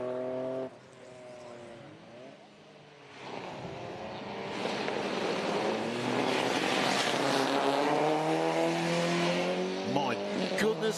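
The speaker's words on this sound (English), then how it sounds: "that Escort RS Cosworth, that sounds like an Air Force jet as it comes past us" A Ford Escort RS Cosworth Group A rally car at a sprint event roars past nearby with a loud, rising jet-like whine that swells and holds before falling away, with talk underneath.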